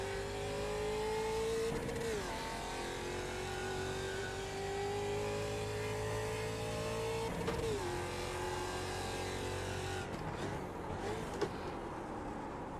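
A race car in iRacing at the Zolder circuit accelerates with a loud, close engine note that climbs steadily in pitch, drops sharply at each upshift roughly every few seconds, then blips and wavers near the end.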